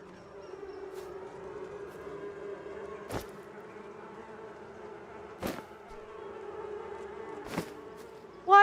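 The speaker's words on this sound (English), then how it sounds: "I can hear the bees buzzing." Steady low buzzing of bees in the farming game Farmer's Life, a continuous insect drone broken by a few sharp clicks, with a brief louder tone at the very end.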